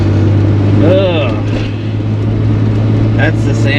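A Toyota Supra with a refreshed Getrag V160 gearbox drives with a steady, close engine hum, while a person talks over it.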